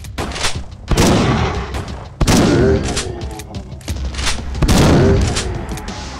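Repeated loud gunshots in the old-school FPS game Unloved, three heavy booming blasts spaced about a second or two apart, each with a ringing tail and mechanical clatter between.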